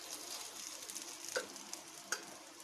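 Bread sweet rolls frying in hot oil, a soft, steady sizzle with a few small pops and ticks, quiet and close, no talking.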